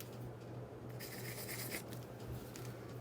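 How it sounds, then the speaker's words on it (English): Charcoal sticks scratch and rub across paper while doodling circles and marks, a steady dry rasp that swells in bursts over a low constant hum, close and moderately loud. "Now let's use charcoal and do some little doodles."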